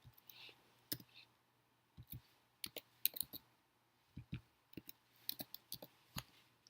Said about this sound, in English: So let's type those in.